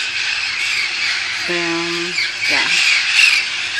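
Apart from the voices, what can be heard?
parrots squawking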